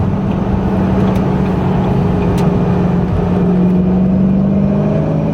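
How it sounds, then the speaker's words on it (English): A 2006 Ford GT's supercharged engine droning steadily from inside the cabin, with a constant low hum and a faint high supercharger whine over it, loud and continuous. "You can hear that supercharger."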